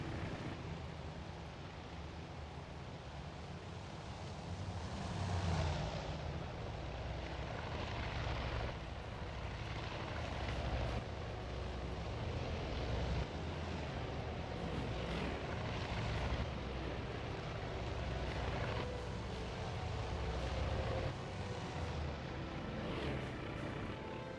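Aircraft engines from planes in the video game Battle Simulator drone continuously at a steady, moderately loud level, with a broad propeller-like roar and no voices.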